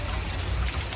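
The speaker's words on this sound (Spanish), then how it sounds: "Hay una lluvia muy fuerte" Heavy rain pouring down outdoors near a cave, a dense, steady hiss with low rumbling, close and uninterrupted.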